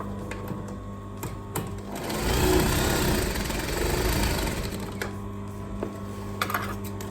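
A sewing machine stitches fabric for a gathered skirt: a sustained mechanical whirr swells in the middle for a few seconds, framed by quieter motor hum and faint clicks.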